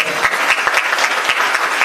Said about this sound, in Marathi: ज्यांना ट्रॉफी मिळाली त्यांचं खरं तर एकदा जोरदार टाळ्या वाजून अभिनंदन